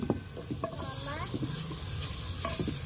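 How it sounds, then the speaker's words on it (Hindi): Tomatoes added to spiced oil in a pan for chole sizzle and crackle steadily while a spoon scrapes and stirs in short strokes, close and moderately loud, with no talking. "और अब इसमें टमाटर डालेंगे और अच्छे से भून लेंगे"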